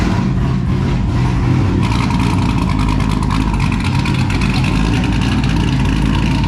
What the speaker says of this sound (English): It's completely straight piped all the way from the headers, all the way out the back